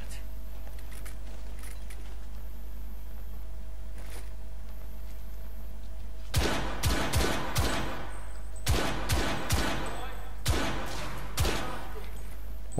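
Gunfire in the video game The Order 1886, a quiet stretch followed by several bursts of rapid shots in clusters, sharp and loud over a low steady hum.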